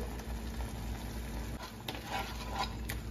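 Spices sizzle steadily in a hot pan for palak paneer, turmeric, chili powder, cumin and coriander frying with salt, a continuous low crackle with a few soft stirring scrapes and no voices.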